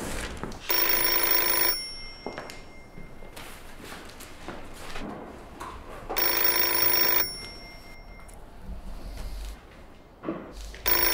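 A telephone bell rings in two long bursts, loud and close, with quieter room sounds, footsteps and knocks between the rings and no one speaking over them.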